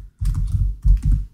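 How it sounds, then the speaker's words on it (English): Typing on a computer keyboard while entering an Excel formula, with two bursts of quick close keystrokes separated by a short pause, heard alone without talk. "Then comma, then I start typing again"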